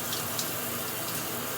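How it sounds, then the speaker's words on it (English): Water runs steadily from a shower while hair is being washed, a continuous broadband hiss with no breaks and no voices. "because I'm showering at the same time"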